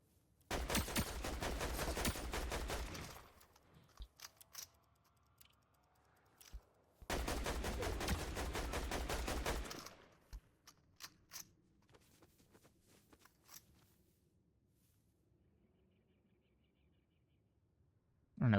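A minigun in the Fortnite video game fires two long, loud, continuous bursts separated by a pause, followed by faint scattered clicks and quieter game sounds.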